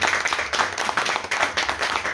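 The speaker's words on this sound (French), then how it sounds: "donc on peut l'applaudir." An audience at a literary conference applauds a prize-winning author, with dense, steady clapping held at an even level throughout, close and full, with no speech over it.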